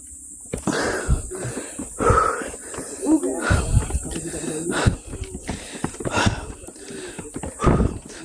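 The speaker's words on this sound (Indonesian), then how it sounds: "Videoku itu isinya nafas semua nih." Heavy, ragged panting from a hiker climbing a mountain trail, a run of loud, close, wheezing breaths repeating unevenly, with a voice and some movement noise mixed in.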